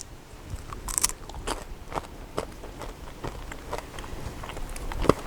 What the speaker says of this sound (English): But listen to the crunch.